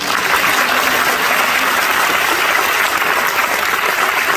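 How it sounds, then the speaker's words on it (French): Sustained, dense applause from an audience at a festival film screening in Nantes fills the hall, loud and steady throughout with no speech over it. "Je vous demande d'applaudir Philippe."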